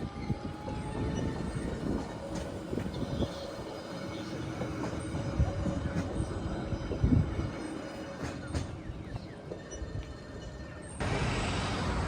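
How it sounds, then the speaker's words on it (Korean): A seaside coastal train rumbles steadily past nearby at Cheongsapo, Busan, with rattling wheels and occasional metallic squeals, a louder burst near the end. "바다를 배경으로 해변 열차가 지나가는 모습을 볼 수 있어서예요"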